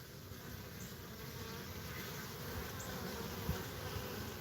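A Carniolan honeybee colony hums at the hive entrance as foragers haul in pollen, a continuous dense buzz with a few louder bees passing close.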